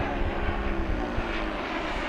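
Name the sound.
FMS 1700mm Corsair RC airplane fast pass at full power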